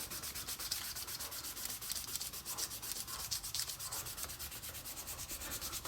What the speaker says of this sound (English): So we'll just turn this over and rub it down onto our plexi.